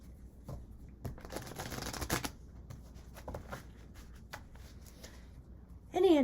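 Tarot cards shuffled by hand: a quick riffling burst followed by softer, scattered taps and slides of cards, close and fairly quiet, with a brief voice at the very end.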